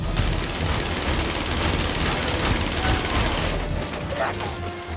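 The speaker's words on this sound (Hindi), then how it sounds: "चल 1 2 3 पे एक गोली चलाएंगे।" Gunfire in the PUBG video game, rapid bursts of shots in a dense fusillade over a steady noisy background, with voices talking over it.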